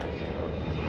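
Navy helicopter maneuvering at a fleet air power demonstration during the NAS Oceana airshow, a loud steady roar of engine and rotor noise filling the air without break.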